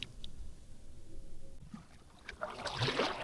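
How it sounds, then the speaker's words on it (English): A kayak paddles across a lake in Winter Park, Florida; soft paddle dips, drips and gentle splashing sound nearby but quiet, growing a little busier toward the end. "so we're just paddling out here"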